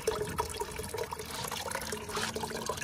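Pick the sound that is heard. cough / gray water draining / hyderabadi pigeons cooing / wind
gray water draining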